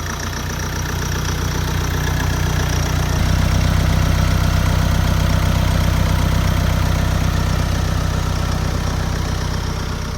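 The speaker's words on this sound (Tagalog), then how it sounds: "Engine start, engine start." A Kia Carens engine starts and runs at a steady idle, loud and close, its low rumble stepping up slightly partway through and then holding even, with no voices.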